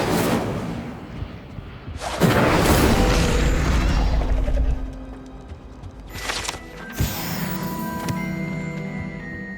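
Incendio fire spell cast in Hogwarts Legacy, a loud whooshing boom with a rumbling burst of flame that swells and fades, followed by a second sharper magical blast with ringing tones, close and forceful.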